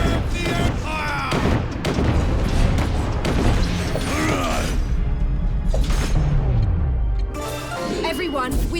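Soldiers fire in battle in The DioField Chronicle, a dense stretch of booms, crashes and mechanical clatter mixed with shouted voices, loud and busy throughout and easing off near the end.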